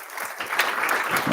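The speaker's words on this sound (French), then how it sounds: "on peut peut-être applaudir Max" Audience at a JavaScript meetup conference applauding a speaker, a brief burst of dense clapping from a roomful of people, close and steady.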